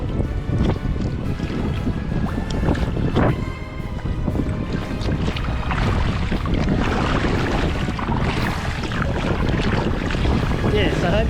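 Strong wind buffets the microphone while a kayak is paddled on a lake, a loud continuous roar with water sloshing and the occasional paddle splash beneath it.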